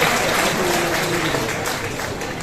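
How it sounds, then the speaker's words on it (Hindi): Audience applause at a government ceremony handing out housing-scheme keys, a steady dense wash of clapping held at an even level for the whole stretch, with faint voices mixed underneath. "जो तालियां निरंतर बजती रहे"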